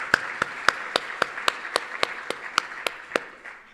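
About fourteen single claps ring out at an even rhythm, crisp and close in a fairly quiet room, from an audience at a city event honouring an animal shelter team.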